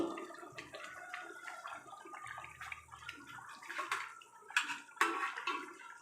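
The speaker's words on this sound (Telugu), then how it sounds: "ఇప్పుడు ఈ పులుసులోకి చేపలను వేస్తున్నాను" Fish pieces go one by one into a pot of simmering fish stew, giving soft watery splashes and bubbling over a low gurgling background, close and faint.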